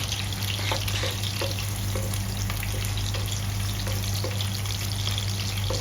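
Onion sautéing in a pan for chicken humba, a steady close sizzle with regular faint taps of stirring over a constant low hum, no one talking.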